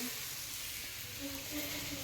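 Jute leaves (pat shak) frying in a pan give a steady, faint sizzle and hiss throughout, with a soft tonal whine drifting over the continuous crackle.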